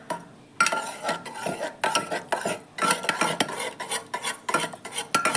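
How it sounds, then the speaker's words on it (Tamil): A ladle clanks and scrapes against a cooking pot while mixing cooked food, rapid irregular metallic strokes up close with brief pauses between bursts. "நல்லா கரண்டிலேயே நல்லா கலந்து கொடுத்து கலந்துக்கலாம்"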